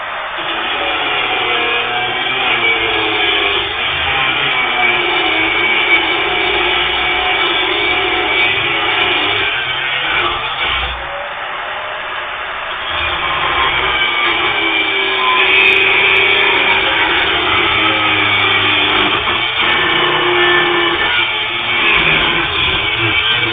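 A FERM 750 W angle grinder cuts through aluminium, giving a loud, sustained whine and grinding roar that runs almost unbroken, dipping briefly midway before resuming at full strength.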